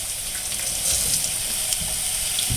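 Beef tenderloin searing in a pan, with a steady sizzle and crackle running throughout at moderate loudness and no talk.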